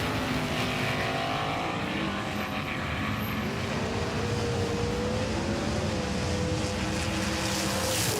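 Solidly built Lesney Roller-Matic toy race cars, about 84 grams each, speed down a racing track with a steady, dense whirring rush of rolling wheels that carries on evenly without pause.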